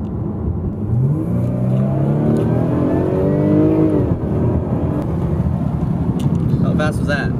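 A new Jaguar car accelerating hard up to about 105 mph, the engine note rising in a clear sweeping whine over several seconds before easing off, with people talking inside the cabin.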